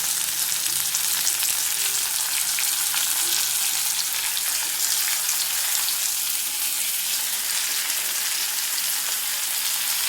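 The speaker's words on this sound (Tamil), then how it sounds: "ஒரு பெரிய தக்காளி பொடிசாக கட் பண்ணி வச்சுருக்கேன், அதை போட்டுக்கலாம்." Finely chopped tomato frying with sautéed onions in a pan, a steady loud hissing sizzle that stays even and unbroken throughout, close by with no voices.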